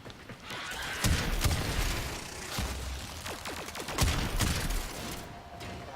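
Shotgun blasts in the video game Warframe: several sharp booming shots at irregular intervals over a steady bed of game noise and ambience, fairly loud and close.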